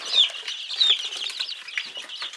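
A crowd of young chicks in a chicken house peeps constantly, their shrill, overlapping cheeps close and busy with no pause.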